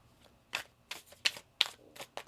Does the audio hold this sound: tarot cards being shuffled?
yes